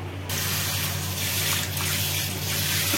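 Running tap water splashes steadily over leafy vegetables (a greens preparation) being washed clean, a continuous close wash with no speech.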